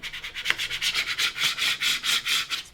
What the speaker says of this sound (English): Take my squeegee, go back over that vinyl,